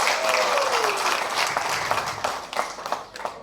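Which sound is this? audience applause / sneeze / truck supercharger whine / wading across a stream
audience applause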